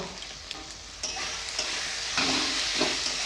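Snakehead fish masala with tomato, Kashmiri chilli, turmeric and coriander powder fries in a pan, giving a steady close sizzle with scraping stirs that grow busier toward the end, and no voice.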